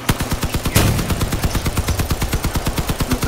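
A long-range vehicle gun in the combat game Crossout fires in a rapid, steady rhythm of loud, close shots, about eight per second, with no voices.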